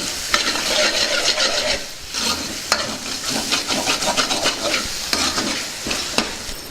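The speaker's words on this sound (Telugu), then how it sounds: "ఒకసారి బాగా కలుపుకుందాం" Green pea and paneer curry is stirred in a pan with scraping, wet stirring strokes and a bright sizzle, loud and close, with repeated sharp clicks from the spoon and no talking.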